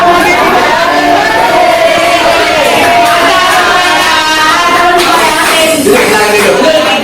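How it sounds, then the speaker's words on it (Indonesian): A school audience at a positive-culture event at a junior high in Depok breaks into loud, sustained crowd cheering and shouting with applause, dense and continuous from start to finish with voices calling out. "Oke, tepuk tangan buat."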